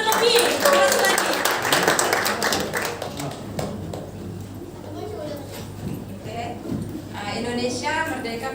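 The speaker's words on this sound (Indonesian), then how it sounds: "Tepuk tangan lebih. Keras lagi." A congregation applauds at an Indonesian Independence Day church service, a burst of many hands clapping loudly at first and then thinning, with people talking over and after it.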